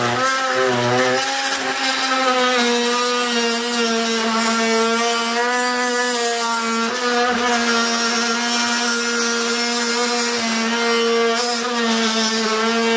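A brushless Milwaukee M12 FUEL oscillating multi-tool with a Starlock blade buzzes loudly and continuously as it finishes a cut, holding a strong, steady harmonic drone throughout with slight wavering as the blade bites.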